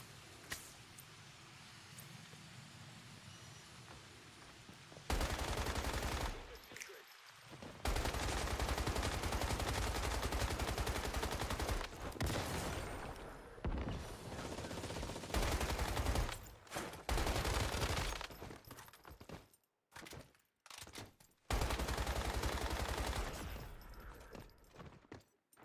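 SMG gunfire in the shooter game Once Human, with long, dense, loud bursts of rapid automatic fire broken by brief pauses, and no talking.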